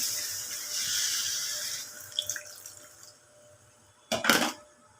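Spice-rinsing water poured into a cooking pot of potato curry, a soft close trickle that fades, then a short louder splash and gush near the end.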